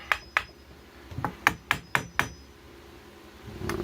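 A hammer strikes a loose machete blade to tighten it: two sharp metallic taps, then a quick run of five more crisp blows, close and clear over a quiet room.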